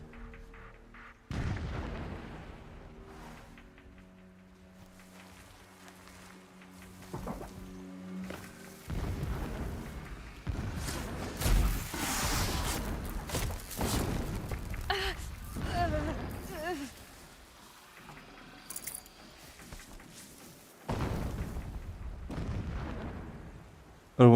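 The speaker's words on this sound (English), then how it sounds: "Explosions in the distance. Pay that no mind." Distant explosions boom in the video game Horizon Zero Dawn Remastered, with heavy rumbling blasts scattered across the scene while a person talks over the game sounds.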